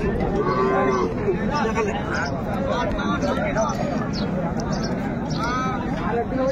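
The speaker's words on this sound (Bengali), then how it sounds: "গাভী বাছুরটি আমরা দেখছিলাম এখানে।" Cows and a calf moo repeatedly at a busy Ranigonj livestock market in Dinajpur, the calls rising over steady crowd chatter and a voice speaking nearby.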